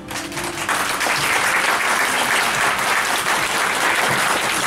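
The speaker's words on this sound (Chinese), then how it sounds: "当香槟酒缓缓地灌注在这个晶莹剔透的杯盘之间的同时，来宾朋友热情的掌声" Wedding guests applaud warmly as champagne is poured into a champagne tower, a dense, loud round of clapping that swells quickly and carries on steadily.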